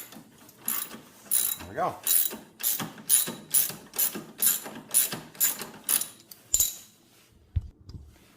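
A hand ratchet loosens the last bolt on a Yamaha snowmobile rear skid, clicking in a rhythmic series of about a dozen close, crisp strokes, then stopping, with a brief voice near the end.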